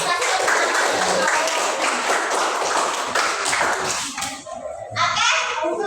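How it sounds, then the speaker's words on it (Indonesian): Children in a classroom clap their hands together in a dense, loud patter with young voices mixed in, and the clapping thins and stops near the end. "kasih tepuk tangan"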